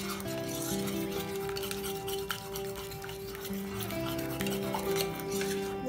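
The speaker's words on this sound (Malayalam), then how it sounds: "അതിനുശേഷം ഇതിനകത്തൊരു ശകലം ഗരം മസാല ഇട്ട് കൊടുക്കാം. ശകലം 1/4 സ്പൂണ് എല്ലാവരും ഇട്ടിട്ട് നമുക്കിത് നല്ലതായിട്ട് യോജിപ്പിച്ച് കൊടുക്കാം." A spoon scrapes and stirs as garam masala is mixed into raw chicken in a metal bowl, continuous close clinking and scraping under faint background music.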